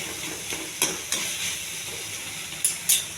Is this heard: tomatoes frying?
yes